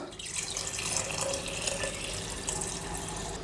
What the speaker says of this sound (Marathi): या कलशामध्ये आपण सर्वात आधी इकडे पाणी टाकून घेऊया